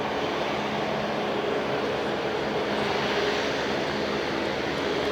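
An Airbus A350 XWB taxis on its inaugural flight day, a steady, dense engine roar with a faint whine, constant and unbroken and heard from a moderate distance.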